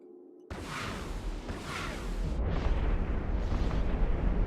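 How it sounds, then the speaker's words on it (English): Rocket explosions in a video game tournament match erupt in a dense, continuous barrage, with booming bursts and rushing blasts stacking on one another at loud, steady intensity throughout. "those rockets are pounding"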